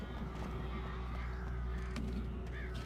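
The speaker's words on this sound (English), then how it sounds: "Hear more bird." A crow cawing in the video game Alan Wake, a few faint caws over a low steady ambient hum with no talking.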